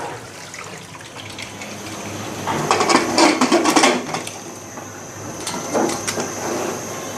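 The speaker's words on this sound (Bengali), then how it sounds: "এখন এটাকে আমি এভাবে প্রেশার কুকারের ঢাকনাটা বন্ধ করে রেখে দেবো চুলোয়।" Metal lid of a pressure cooker clanking shut on a pot of haleem meat before it goes on the stove, a cluster of close clattering knocks in the middle and a shorter clink near the end.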